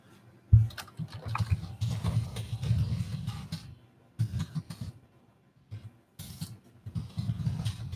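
Computer keyboard typing in bursts, with dense clusters of keystrokes separated by short pauses, close and moderately loud, with no speech.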